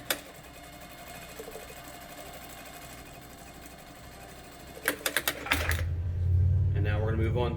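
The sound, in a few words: sewing machine sewing a curve on a mask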